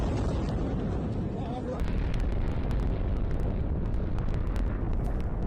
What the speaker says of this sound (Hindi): इस्फहान में इजराइल ने भीषण हमला किया है। 15 खुर्दाद मिसाइल साइट को टारगेट किया है।